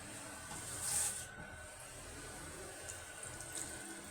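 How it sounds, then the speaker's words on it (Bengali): Water pours into a pot of curry made with papaya and young chicken, a faint, steady watery hiss that swells briefly near the start and then continues evenly. "তাই আর একটু পানি দিতে হবে আমার।"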